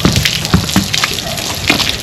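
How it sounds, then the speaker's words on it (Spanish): Water splashes and gushes over a young filly's body during her first bath to rinse off sweat, coming in several close, uneven pours with wet spattering between them. "Ella no sabe que es que le echen agua en el cuerpo"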